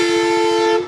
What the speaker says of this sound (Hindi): ट्रेन वाला हॉर्न नेपाल की बसों के अंदर